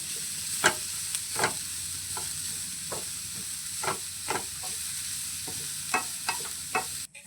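Carrot halwa cooking in a pan, stirred with a spoon in a steady series of sharp scraping strokes about once a second over a continuous gentle sizzle, close and alone without speech.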